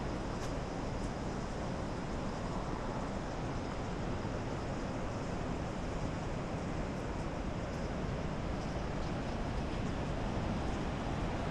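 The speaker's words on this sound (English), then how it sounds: "a twin waterfall divided by rock and reunited in a roar of power" A continuous, even roar of rushing water, steady and unbroken throughout, from Låtefossen, a twin waterfall in Norway, heard from nearby.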